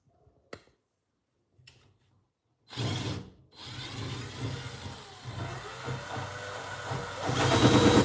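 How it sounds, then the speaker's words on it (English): A power drill whirs up after a few small clicks and knocks, running steadily and growing louder toward the end, close by. "I'm supposed to drill through these little holes here."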